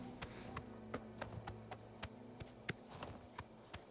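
Horse hooves clip-clop at a steady walking pace in a video game, a faint, evenly spaced run of light knocks over a low hum.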